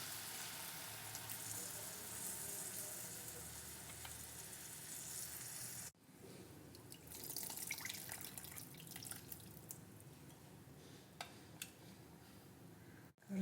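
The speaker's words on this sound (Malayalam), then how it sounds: "ഇനി നമുക്ക് പുളിവെള്ളം ചേർത്ത് കൊടുക്കാം." Tamarind water is poured into a lemon peel pickle mixture, a soft trickling and dripping pour that is faint and close, with a brief pause before it continues.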